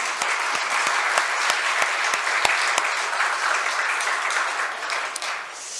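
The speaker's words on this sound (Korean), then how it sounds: "오늘 우리 찬양대 격려하면서 또 우리 하나님께 영광의 박수를 한번 드리겠습니다." Congregation applause at a Sunday worship service in a Busan church: a sustained, even wash of many hands clapping together for nearly six seconds, with no talk over it.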